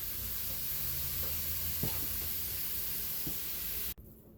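Hamburger meat and onions sizzle steadily in a pan while a meal is cooked in a 1974 Silver Streak Reno trailer, a dense close hiss with a few soft utensil clicks, no talking, cutting off abruptly near the end.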